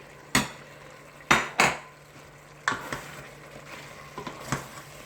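A spoon stirs and scrapes ground spices, black pepper and garam masala, in a pot for chicken curry, with sharp metallic clanks at irregular intervals over a faint, steady sizzle of frying.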